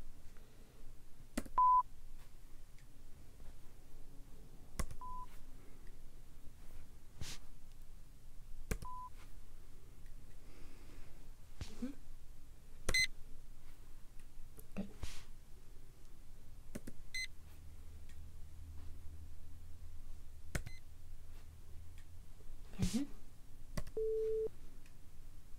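Brief pure hearing-test beeps at different pitches spaced several seconds apart in a quiet room, with scattered soft clicks between them.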